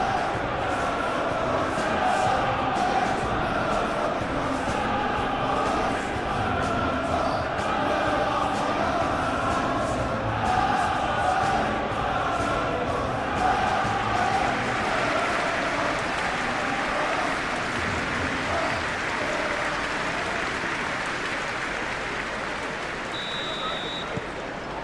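Steady stadium crowd roar from the PES 21 football video game fills the whole stretch, a dense continuous wash of cheering and chanting with commentary voices over it.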